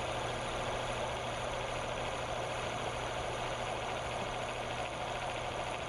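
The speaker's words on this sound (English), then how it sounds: "Now we'll turn on the motor and add the load." Electric motor of an oil test bench running steadily under a full load of four weights while comparing lubricants, a constant dense mechanical whir and hum with no breaks, close and loud throughout.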